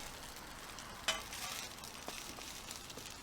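Pork belly okonomiyaki, a Japanese savory pancake, flipped with a spatula on a Blackstone griddle, a quick scrape and slap followed by soft, steady sizzling at low volume.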